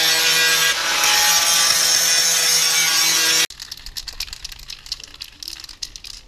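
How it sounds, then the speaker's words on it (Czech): Fresh paint on an Opel Vectra being sanded, a loud steady abrasive rasp for about three and a half seconds, then cutting off to quieter scattered scratching and rubbing strokes. "Takže neuběhlo ani 5 minut lakování a mladý už to brousí."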